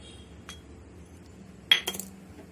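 A spoon mixing curd rice in a bowl, with a faint early tap and then a short cluster of bright clinks against the dish near the end, heard close in a quiet room.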